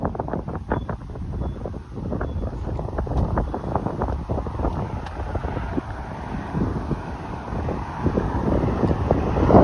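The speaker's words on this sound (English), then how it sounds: "it's just so windy" Strong gusts batter the microphone on a hiking trail along the Humber River near Kipling Avenue, with low rumbling buffets, a continuous roar that swells and drops throughout, with no voices.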